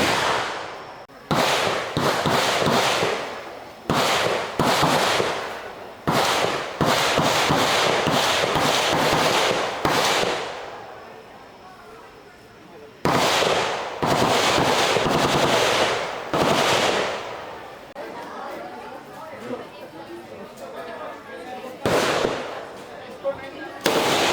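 Real gunfire at the Cu Chi Tunnels shooting range in Vietnam: loud, sharp shots cracking in rapid bursts with brief pauses between volleys, echoing outdoors for the whole stretch.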